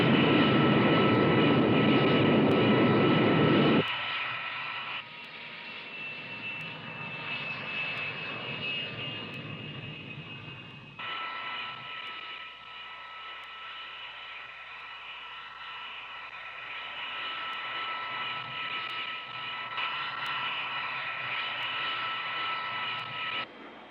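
An X-15 rocket plane flying past Mach 5 roars as a loud, steady broadband engine rush, heaviest in the opening seconds and then settling into a sustained high whine that continues throughout with no talk.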